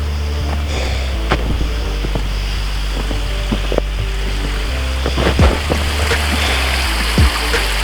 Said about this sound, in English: Here's the creek